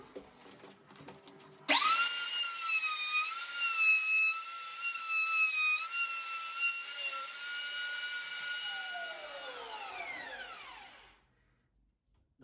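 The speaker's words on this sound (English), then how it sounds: "using the router, just cut both of the hinge out" A router whines up to a high, steady cutting pitch while routing a hinge recess into a door, its tone wavering slightly as it bites the wood, then spinning down and fading to silence; no speech.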